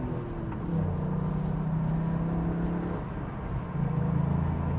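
Toyota GR sports car engine on back roads, a steady, fairly loud low drone from inside the car that rises in pitch toward the end as the throttle opens, with no talking.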